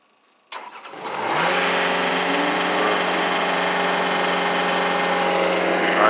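A Bobcat skid steer's diesel engine cranks briefly, catches and settles into a steady, loud, close idle drone that holds to the end.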